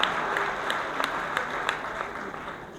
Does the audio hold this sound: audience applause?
yes